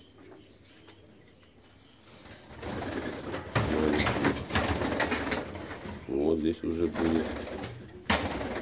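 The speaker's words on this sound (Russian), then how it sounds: "Вот они боятся, метаются." Caged budgerigars flutter and flap in bursts with scattered chirps, close and fairly quiet, while someone talks over them.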